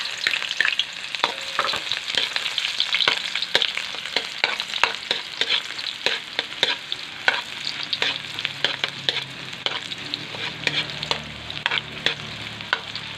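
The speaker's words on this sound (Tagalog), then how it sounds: "manggisa lang tayong bawang at sibuyas" Garlic and onion sauté in a pan for ginisang monggo, giving a continuous close sizzle broken by frequent sharp stirring clicks and scrapes throughout.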